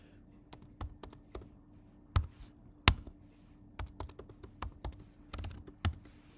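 Administrator credentials typed on a computer keyboard for a Windows domain, an irregular run of close, crisp key taps with a few harder strikes, no voices.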